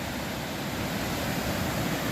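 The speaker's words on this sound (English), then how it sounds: "First little waterfall, it's just the beginning." A small waterfall on a forest trail at Ricketts Glen State Park gives a steady, broad rushing roar of falling water, close and unbroken, with no voices.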